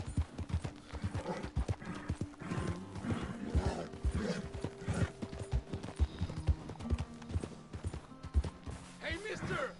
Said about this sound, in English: She doesn't know me very well, this horse, so I have to be careful.